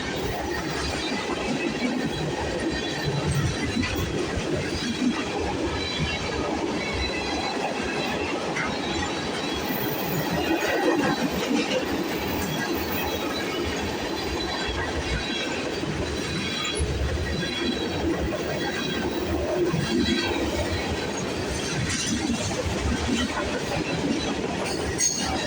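A VIA Rail passenger train rolling along CN's Halton Subdivision, a steady rumble with clickety-clack of wheels and occasional squeals, sustained throughout at moderate distance.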